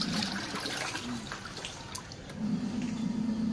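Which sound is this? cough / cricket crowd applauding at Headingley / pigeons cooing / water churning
water churning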